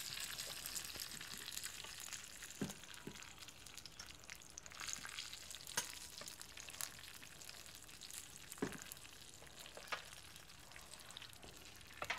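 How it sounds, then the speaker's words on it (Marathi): A tempering of red chillies, cumin and salt sizzles in hot oil, a steady close frying hiss with occasional crackles and stirring clinks over twelve seconds. "तडक्यात लाल मिरची टाकून घेऊ"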